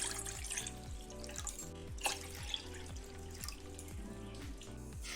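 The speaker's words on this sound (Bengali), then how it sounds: "এবার জল আমি দিয়ে দেব" Water poured into a cooking pot of rice for Bengali Basanti pulao, a steady close splashing flow with faint dripping, continuous and alone without talk.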